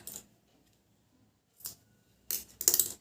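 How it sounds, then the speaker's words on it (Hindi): Small scissors snip extra crochet thread, a few quiet close clicks separated by silence, the last pair quick and sharper. "और अब आखिरी वाले लूप में ये वाले एक्स्ट्रा धागा पहले हम काट देंगे।"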